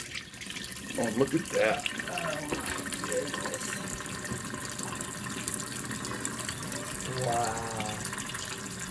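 Steady rush and splash of water pouring out of a Whirlpool dishwasher drain hose pulled loose for a drain test, continuous throughout while a person briefly exclaims over it.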